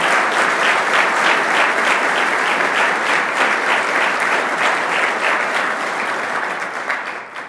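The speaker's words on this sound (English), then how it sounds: "Let's give a round of applause." An audience at a public event announcing a film production company hub breaks into loud, sustained applause, dense clapping from a large crowd that carries on steadily before easing off at the end.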